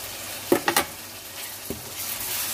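Tomatoes with red chili and turmeric powder sizzling in a hot pan, a steady low fry broken by a few sharp clicks of a spoon against the pan, close and mostly alone.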